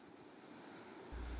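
Ocean surf at Playa Linda Beach on Florida's Space Coast: a brief, steady wash of waves mixed with wind rumble on the microphone, growing a little louder toward the end.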